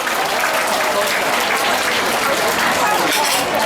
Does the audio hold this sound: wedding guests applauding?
yes